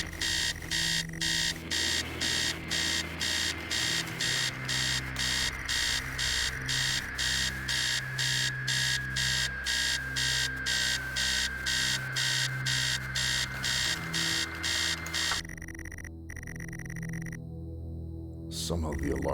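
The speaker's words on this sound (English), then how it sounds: "Somehow the alarm stops." An alarm rings insistently in the video game Stories Untold, a loud rapid pulsing beep repeating steadily over a low hum for about fifteen seconds, then cutting out abruptly and leaving near silence with a faint drone.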